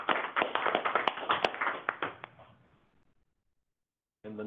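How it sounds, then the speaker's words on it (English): Enthusiastic applause for Ernesto fills a film lab debrief in Belize, a close burst of clapping with sharp individual claps that fades out, followed by silence and then a voice starting up. "let's have a round of applause for Ernesto"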